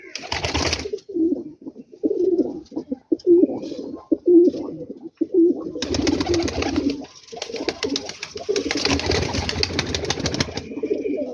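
Highflyer pigeons coo in a loose rhythm of soft, throaty calls, close by, with bursts of wing flutter and rustling in a loft setting.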